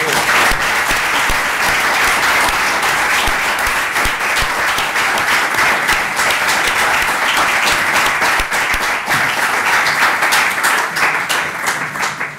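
Sustained audience applause for the artist Concha Jerez at a public talk, a dense, loud wash of many hands clapping steadily for over ten seconds with no letup.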